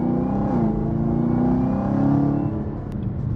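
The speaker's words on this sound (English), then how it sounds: "Oh, you hear little burbles." Supercharged 650 hp 2023 Chevrolet Camaro ZL1 exhaust under way, a steady loud engine drone with low rumbling burble texture running throughout, no talking.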